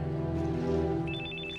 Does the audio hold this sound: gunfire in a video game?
no